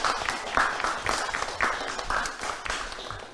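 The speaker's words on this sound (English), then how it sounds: "please give a great applause to him" An audience claps steadily for a guest at a Ramadan quiz award ceremony, a close, continuous round of applause with rhythmic swells.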